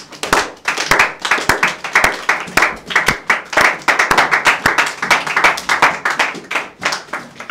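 A church congregation claps together in steady rhythmic applause to acclaim a scripture reading, a close and lively burst of many hands lasting throughout.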